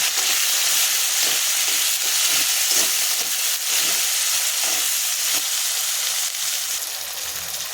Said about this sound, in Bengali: দিয়ে লবণ হলুদ দিয়ে আবারও আমি ভালো করে একটু নাড়াচাড়া করে নেব।